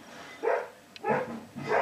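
A dog barks indoors, three separate barks spaced about half a second apart, fairly close and moderately loud against a quiet room.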